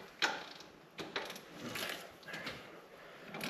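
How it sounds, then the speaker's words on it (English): Hand ratchet clicking while working on an engine, a few sharp metallic clicks and short runs of ratcheting, close and fairly quiet with small mechanical knocks between. "I need the ratchet."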